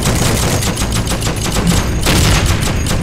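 Rapid automatic fire from a tank-mounted machine gun in the World War II shooter Heroes & Generals, a loud continuous rattle of shots that fills the whole stretch without pause.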